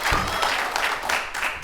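Studio audience of a talk show breaks into brief applause, a dense wash of clapping with a few cheers, steady and fairly close, with a voice faintly underneath.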